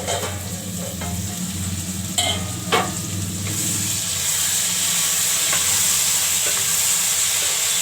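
A potato and eggplant curry with tomato sizzles in a pan over a high flame. A steady, loud frying hiss fills the clip, with a few clattering stirs near the start.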